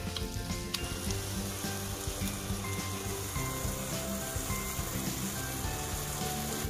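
A sugar and sago mixture for laddus cooking in a pan as the sugar melts, making a dense, continuous close sizzle and bubbling with faint stirring, with no speech.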